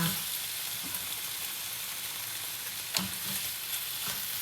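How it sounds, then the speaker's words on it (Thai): Bacon strips sizzle and crackle steadily in a dry pan with no oil, cooking over medium heat, with a few louder spits and pops against a continuous close frying hiss. "ใส่ไปเลยนะคะไม่ต้องใส่น้ำมันนะคะเพราะว่าไอตัว เบคอนเนี้ยมันมี มันอยู่แล้วเดี๋ยวมันก็ออกมา"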